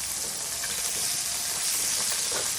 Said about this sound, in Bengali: এই এখানে মাছের মাথাটা আমি ভাজি করতেছি